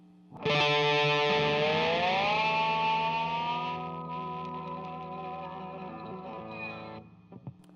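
A sustained electric slide guitar note in standard tuning with rich ringing overtones bends upward from D to an E harmonic-like overtone, then holds steady before cutting off, loud and close with distortion.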